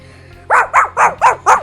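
A human voice imitates a demonic creature snarling and growling, giving five loud, evenly spaced, harsh bark-like bursts up close after a quiet start.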